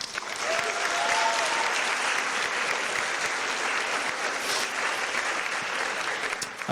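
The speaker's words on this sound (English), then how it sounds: "Please give the class of 2026 one more round of applause" Applause for the graduating class at a college senior student-athlete award ceremony, a sustained round of many hands clapping at an even level, tapering slightly near the end.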